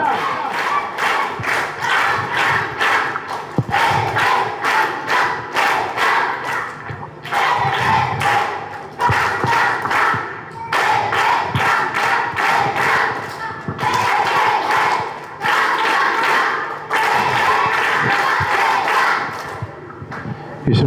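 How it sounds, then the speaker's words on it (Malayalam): A crowd at a Christian gathering in Edakkara claps together in a loud, steady, rhythmic welcome, with sharp beats in repeating bursts and short pauses between them. "നല്ലൊരു വെൽക്കം ക്ലാപ്പ് കൊടുത്ത് സ്വീകരിച്ച്"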